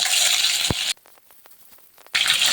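Whole garam masala spices sizzle loudly in hot oil with a dense frying hiss that drops away for about a second, leaving only light crackles, and then surges back.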